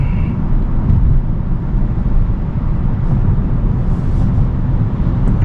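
Car driving on a cold night, heard from inside the cabin as a constant low road and engine rumble with no voices.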